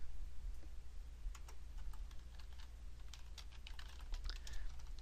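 Keystrokes on a computer keyboard while setting type in Illustrator, a quiet run of light clicks in uneven bursts over a steady low hum, with no talking.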